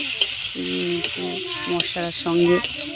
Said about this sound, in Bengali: দিয়ে এবারে নাড়াচাড়া একটু করে নিচ্ছি